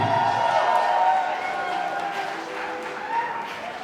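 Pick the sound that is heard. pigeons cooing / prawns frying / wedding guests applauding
wedding guests applauding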